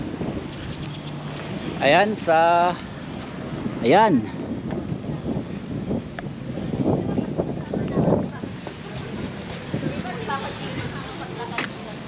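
Wind buffets the microphone at the seaside MacArthur landing site, a steady rushing noise with gusts, heard under someone talking and other voices nearby.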